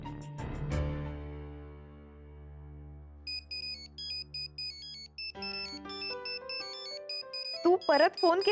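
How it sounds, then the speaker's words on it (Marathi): A phone's melodic ringtone announces an incoming call, looping a bright repeating electronic tune that grows busier as it continues, with a voice breaking in at the very end. "तू परत फोन केलास आदित्य?"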